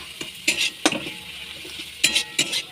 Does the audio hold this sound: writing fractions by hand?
no